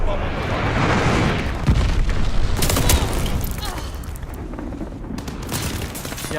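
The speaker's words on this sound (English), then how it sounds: "Enemy glide bomb on the way." Rumbling explosions from glide bombs in Call of Duty: Vanguard roll in a dense, continuous barrage with sharp cracks mixed in, loud and close throughout, alongside broad battlefield noise.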